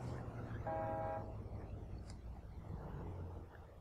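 A car horn sounds one sustained honk inside the zombie survival game State of Decay 2, with engine rumble underneath and a short sharp click afterward.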